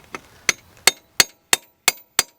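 A hammer strikes a steel bar angled against the wheel bearing race of a 1995 Nissan Pathfinder SE 4x4, giving six sharp metallic knocks at a steady, slightly quickening pace. The hits are close and loud, with no talking between them.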